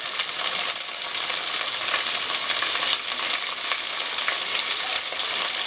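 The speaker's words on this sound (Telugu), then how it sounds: "కొంచెం ధనియాలు వేయించేసి" Coriander seeds and spices fry in a pan with onion, coconut and cloves, giving a loud, continuous hiss and crackle up close with no talking.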